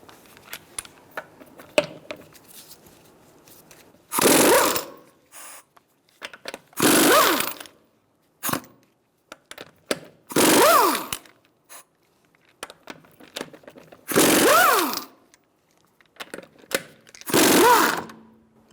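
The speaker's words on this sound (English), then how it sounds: "It's time to remove our wheel. We're going to use a" A power tool with a 21mm socket spins lug nuts off a 2007-2012 Nissan Altima front wheel, five loud separate bursts of whirring and rattling impact, each about a second long, with quiet gaps between them.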